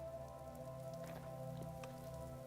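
Rain falls in the video game Vintage Story, a faint soft pattering of drops over steady low, humming tones.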